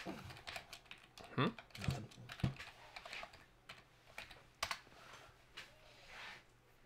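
Rapid, irregular clicking of fingers typing on a computer keyboard, fairly close and moderately loud, with short bursts of keystrokes and brief pauses, and faint voices in the background.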